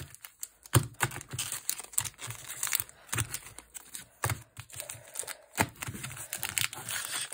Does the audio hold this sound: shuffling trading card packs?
yes